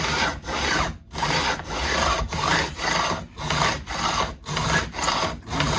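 Fret ends on a left-handed Fender Mexican-made Telecaster neck being trimmed with a file, a loud close rasping stroke repeated in a steady back-and-forth rhythm, about a dozen strokes with brief gaps between them.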